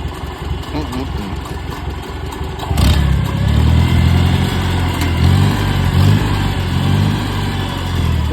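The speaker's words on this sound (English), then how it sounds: "That's one finely tuned engine right there." An IH Farmall 140 tractor engine, running a fast-hitch brush hog, idles steadily and then revs up sharply and holds a loud, rough, close roar for the rest of the clip.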